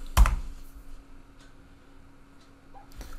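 Typing on a computer keyboard while setting up a virtual machine: one loud clack opens the clip, followed by a few scattered faint key taps over a quiet hum.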